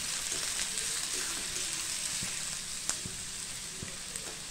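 Onion frying in a pan until deeply browned for a dried bombil (Bombay duck) masala curry, a steady close sizzle with a few faint spoon clicks and no voices.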